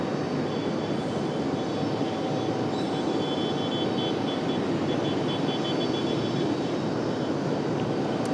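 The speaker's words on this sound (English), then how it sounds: "Now this Aeromexico in the updated livery for Aeromexico Connect." Aeromexico Connect regional airliner in updated livery arriving at Raleigh-Durham airport, a steady broadband engine roar holding at constant strength throughout, with no talk.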